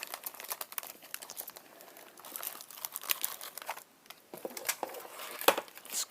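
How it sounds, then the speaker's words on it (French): Paper crinkles and crumples during scrapbooking as folded mini envelopes are made, a close, irregular series of rustles and sharp crackles with brief pauses, no voices. "Excusez-moi pour les bruits de papier."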